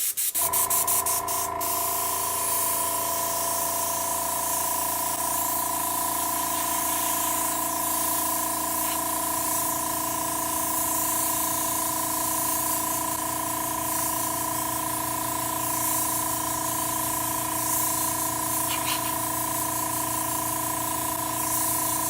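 An airbrush sprays thinned India ink in a continuous close hiss, held steady for the whole stretch over a constant mechanical hum, likely from the compressor.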